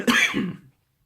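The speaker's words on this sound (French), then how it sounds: "Et ça me fait tousser en même temps." One short, close cough bursts out and then fades into silence.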